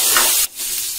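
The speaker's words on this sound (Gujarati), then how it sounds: "થોડી સેકન્ડ માટે ડુંગળી સાતળી લઈશું" Chopped onion sautéing in a pan with curry leaves and green chili for batata poha, a close steady sizzle and hiss that briefly dips midway and then resumes, with no talk.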